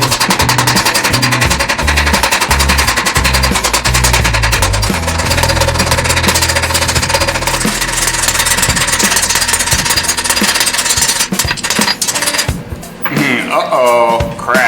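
Spring steel from a tailgate spring is hammered hot to taper a fire poker, with rapid, loud, close repeated strikes, likely from a power hammer, under a running motor hum, and a voice near the end.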